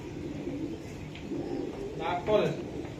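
Soft racing pigeon coos rise briefly near the end under a person's talking, with low murmuring in the background.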